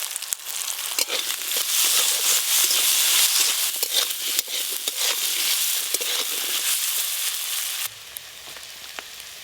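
Small diced potatoes hit hot mustard oil with five-spice tempering, giving a loud, steady sizzle and crackle with faint stirring scrapes, then dropping to a quieter fry near the end.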